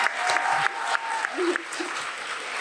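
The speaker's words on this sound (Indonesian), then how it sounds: "boleh gak kita berikan tepuk tangan dulu untuk Mbak Najwa Shihab" Audience applause for Najwa Shihab, a steady wash of clapping from a crowd lasting a few seconds, fairly even in level with faint voices mixed in.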